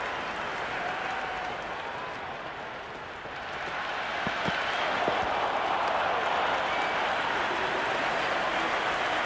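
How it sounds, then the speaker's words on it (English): A large cricket crowd at an Ashes Test between Australia and England applauds and roars continuously, a dense, sustained wash of clapping and cheering that swells slightly midway. "There is an almost tangible fervour throughout the crowd at the moment."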